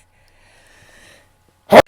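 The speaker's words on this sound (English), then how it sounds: "I gotta sneeze" A single loud, abrupt sneeze from a man, close to the microphone and sharp, following a second of near-silence with faint background hum.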